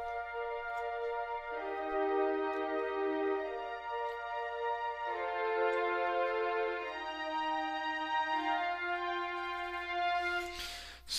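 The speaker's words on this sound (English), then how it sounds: "I'm using the legato pizzicato strings there." Plucked pizzicato strings in Pro Tools Expand 2, legato pizzicato patch, play sustained block chords that change every couple of seconds, clear and steady with no talking.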